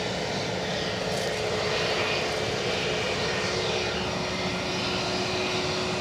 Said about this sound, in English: we're a bit heavy on departure action at the minute, so you might find me drowned out by the noise